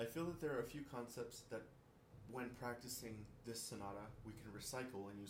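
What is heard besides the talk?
None of the usual background noises is heard.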